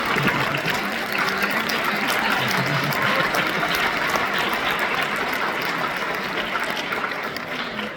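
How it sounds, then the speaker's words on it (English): Audience applauding student musicians at a high school honor band concert at Washburn University: a loud, sustained wash of many hands clapping in a hall, steady for several seconds before easing off slightly at the end. "Can y'all give them a round of applause?"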